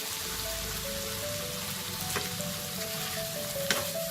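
Spice masala with onion and turmeric fries in oil for a pointed gourd and prawn curry, giving a steady close hiss with a couple of faint clicks of a spoon.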